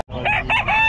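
A hatch-line gamefowl rooster about eight months old crows loudly and close by at a pet market in Bocaue. It gives one full crow with rising and falling strained notes lasting under a second.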